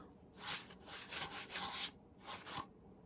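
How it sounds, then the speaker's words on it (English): A paper towel rubbed over fresh paint on a painted cow skull, heard as soft, close scrubbing strokes in several short bursts separated by brief pauses, quiet with no talk. "I'm taking a paper towel. I'm kind of waiting a few seconds, and then I'm just rubbing it just to give it those pink hues"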